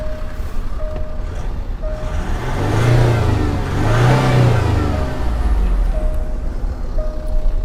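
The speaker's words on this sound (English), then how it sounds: "I'll just give you a little rev of the engine to hear it, but it's a diesel" A 2015 Range Rover Sport twin-turbo diesel engine revs up twice in quick succession, rising and falling over a steady idle, loud and close, with no talking.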